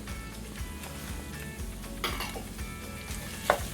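Garlic stirred into ground beef and tomato paste frying in a pan, with a steady close sizzle, scraping utensil strokes and a sharp clink of metal near the end.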